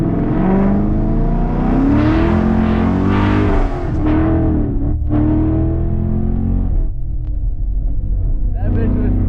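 Car exhaust revving at a wet-weather car meet, a loud throaty engine rising and falling in pitch close by, with excited voices talking over it.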